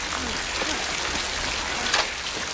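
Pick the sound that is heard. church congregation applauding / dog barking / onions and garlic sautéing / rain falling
rain falling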